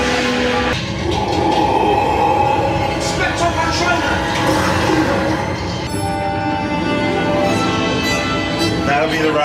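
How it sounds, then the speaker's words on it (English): A train rumbling and clattering along the tracks for several seconds, loud and close, with steady mechanical noise throughout. "there is the train that we are catching"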